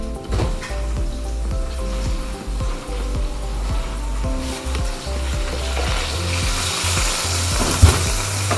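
Beef bones roasted in the oven and pulled out in a hot pan for dark beef stock, sizzling steadily up close while the metal pan knocks and scrapes now and then, with no talking.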